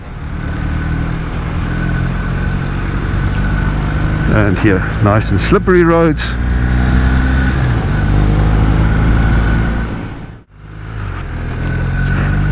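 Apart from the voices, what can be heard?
BMW R1250R motorcycle riding on road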